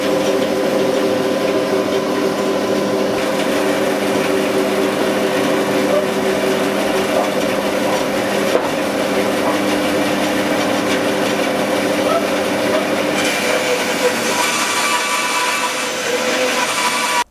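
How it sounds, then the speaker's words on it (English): A small bandsaw resaws a full-thickness hardwood mantle fed along the fence, giving a steady, loud whirring drone with a grinding cutting texture throughout that brightens slightly near the end. "At first, I tried to cut the full thickness, running the mantle along the fence to keep things straight"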